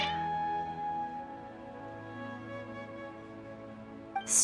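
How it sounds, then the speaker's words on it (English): Cats in the Genshin Impact video game meow over a sustained musical backdrop, the calls blending into steady tonal game music before a brief louder burst at the end. "Your cats seem pretty worked up"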